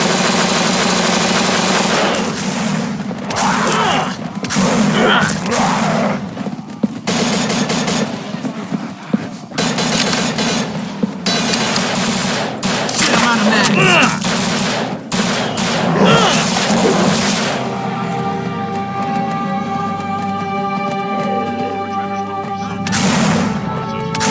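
Sustained rapid gunfire from No More Room in Hell, a zombie survival shooter, bursts of automatic shots and loud cracks over a steady engine-like drone for about twenty seconds, continuous and close.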